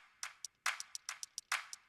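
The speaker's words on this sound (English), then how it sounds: "So then you add in the hi-hat" Hi-hat layered onto claps in a music production beat: quick bright ticking hits weave between the fuller clap snaps in a tight, busy groove with no voices.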